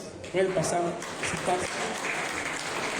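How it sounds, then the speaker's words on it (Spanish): An audience at a talk on first responders in criminal investigation gives colleagues a round of applause, clapping running under a man's brief spoken line and continuing steadily afterward. "Un aplauso a los compañeros."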